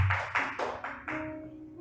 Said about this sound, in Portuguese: Até aqui pode aplaudir o Senhor